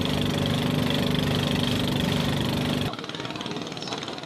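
A motorboat engine drones steadily on a long trip across open water to a market, loud and close with a harmonic hum, then drops abruptly to a quieter, rougher rumble near the end.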